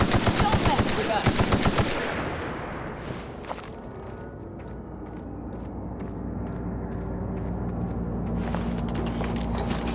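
In The Outer Worlds, rapid automatic gunfire rattles loudly for about two seconds, then gives way to scattered shots, footsteps and low ambient rumble.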